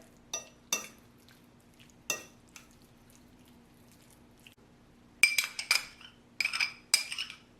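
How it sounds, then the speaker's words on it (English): A spoon and fork clink and scrape against a plate while spicy tuna is mixed, several sharp taps early, then a denser run of close metallic clinks near the end over a quiet background. "I'm just going to mix it right here on the plate"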